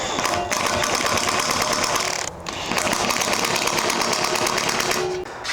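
A power impact tool on its lowest setting runs down the lug nuts of a Lexus spare tire carrier, a loud continuous rattling hammer with a short pause near the middle and a dip at the end.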